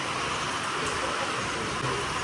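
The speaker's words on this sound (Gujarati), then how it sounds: "અત્યારે છે ને ધોધમાર વરસાદ ચાલુ થઈ ગયો અને ફૂલ પવન છે" Heavy downpour with strong gusting wind during a storm, a dense continuous broadband hiss that stays loud and steady throughout with no voices.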